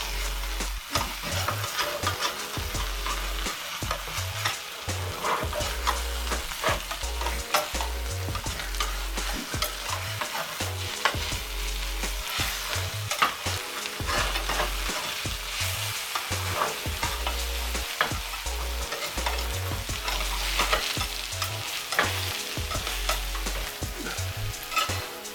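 Egg frying in a pan for an omelette, a steady close sizzle with constant crackling and spitting. Light stirring and scraping run through it, with no voices.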